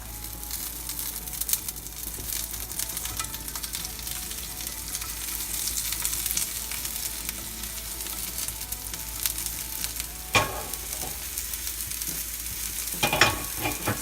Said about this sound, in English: I'm going to go ahead and set that onion in.